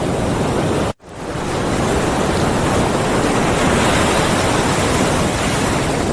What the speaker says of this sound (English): Look at the ocean. And waves.